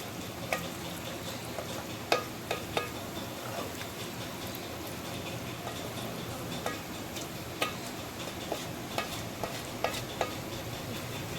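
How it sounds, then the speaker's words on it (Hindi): Mash dal mixed with spices in a pan gives a soft, steady sizzle, with occasional light taps and scrapes of a spoon against the pan, quiet and close. "हमने इसमें दाल डाल दी है और उसको स्लो मसाले के साथ मिक्स कर लेंगे।"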